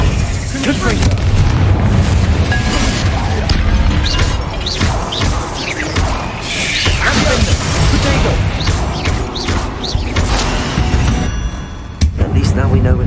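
Confringo spell explosions in Hogwarts Legacy inside a tomb, heard as loud continuous booms and crashing blasts with a game voice speaking over them.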